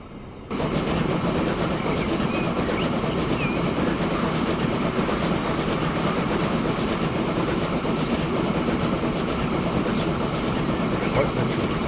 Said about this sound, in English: It takes a week for this train to go 100 yards.